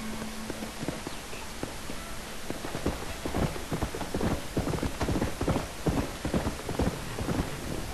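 Horse hooves clip-clop in Red Dead Redemption, a steady run of close, crisp strikes that grows denser midway, with no voices over it.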